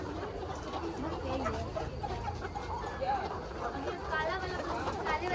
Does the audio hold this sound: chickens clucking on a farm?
yes